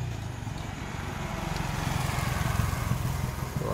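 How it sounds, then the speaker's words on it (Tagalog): Motorcycle passing along a road in northern Cebu after a magnitude 6.9 earthquake, its mid-pitched engine drone building steadily and nearing at moderate loudness, with no talk. "Og mga motor nga nagagiagi."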